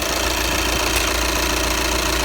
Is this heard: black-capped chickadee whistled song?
no